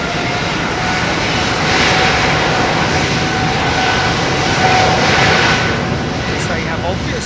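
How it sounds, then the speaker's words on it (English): A Boeing 767 jet airliner departs London Heathrow with a loud, sustained engine roar that stays near and steady throughout, while someone talks over it. "767, another 767 going out."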